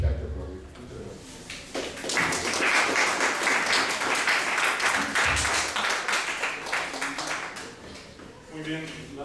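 An audience applauds at an academic talk, the clapping rising into a dense, sustained round that holds for several seconds before thinning out near the end.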